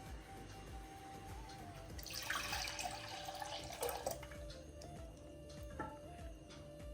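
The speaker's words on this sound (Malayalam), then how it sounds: "നമ്മൾ പുളി ഒഴിക്കുന്നു." Tamarind water is poured into a curry pot, a faint trickling, splashing pour that swells in the middle, then fades into light drips, close by with no speech.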